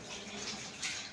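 Water rushes into a washing machine once the tap is opened, a steady, close hiss of flowing water that holds for about a second with no talking.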